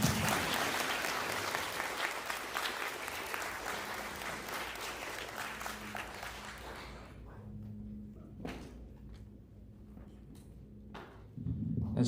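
Applause from an audience at a 5th grade farewell ceremony, a dense steady round of clapping that gradually thins and fades after about seven seconds, leaving scattered claps and a brief renewed burst at the end.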